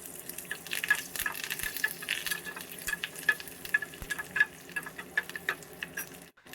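Mustard seeds, cumin, split dried red chillies and curry leaves frying in hot oil, a steady close crackle and sizzle with scattered sharp pops running throughout.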